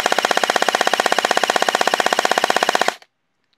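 Gel blaster fitted with a 39K brushless motor firing full auto, a rapid, evenly spaced burst of loud close shots lasting about three seconds before stopping abruptly.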